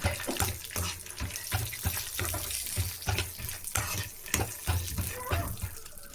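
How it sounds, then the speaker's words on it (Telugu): Peanuts fry in hot oil, a dense, loud, close sizzle that crackles continuously, with soft rhythmic thumps as the nuts are stirred in the pan. "ఆయిల్ హీట్ ఎక్కాక పల్లీలను వేసుకోవాలి ఫ్రెండ్స్. పల్లీలు వేపుకోవాలి."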